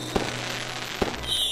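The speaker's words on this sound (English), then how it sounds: "why are fireworks different colors?" New Year fireworks explode in two sharp bangs about a second apart over a steady background rumble, with no talking.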